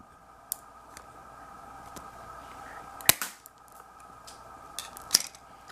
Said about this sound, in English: use my scissors, cut the end off this cap